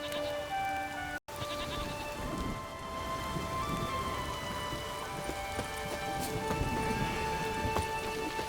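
Steady rain pours throughout a stormy scene in The Witcher 3 video game, a dense close hiss of drops on surfaces with faint distant rumbles, plus a short cut of silence near the start.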